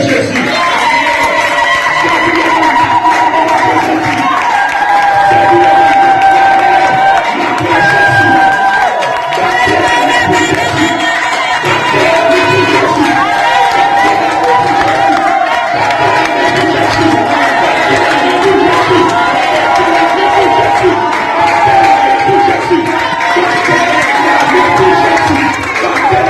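A church congregation in Congo cheers and acclaims Jesus: a loud, sustained roar of many voices with rising shouts and high ululating cries layered together, continuous and close throughout.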